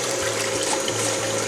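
Water driven by a battery-powered pump flows through a gold prospecting sluice, making a steady, close rushing and gurgling wash with a low mechanical hum beneath, continuous and unbroken.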